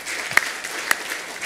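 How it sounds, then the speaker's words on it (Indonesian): A church congregation at a Sunday evening worship service claps in a soft, scattered burst, with a few sharper individual claps standing out over the quieter patter. "Tepuk tangan."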